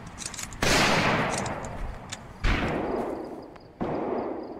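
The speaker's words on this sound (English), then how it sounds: "Somebody shooting at me?" Three loud, separate gunshots in Project Zomboid, each a sharp blast trailing into a long echoing decay, spaced roughly two seconds apart, aimed at the player.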